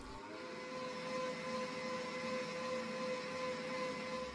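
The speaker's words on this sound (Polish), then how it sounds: "Miksujemy przez 1 minutę na średnich obrotach." An electric hand mixer whirs at medium speed, beating meringue made with egg whites, sugar, a spoon of starch and lemon juice; a steady, even motor drone with a bright whine, close and unbroken throughout, with no talking.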